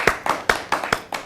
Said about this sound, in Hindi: जोरदार ताली से आप स्वागत करें नौशाद खान गाजी।